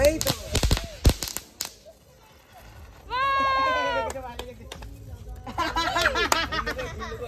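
Firecrackers go off during a family gathering at a maternal uncle's house, with several sharp, loud cracks early on, followed by excited voices and shouting.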